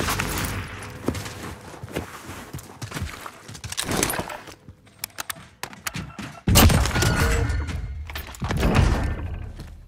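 Gunfire and combat noise in Call of Duty Warzone: scattered shots and thuds, then a louder burst of firing and impacts midway, close and loud over game ambience.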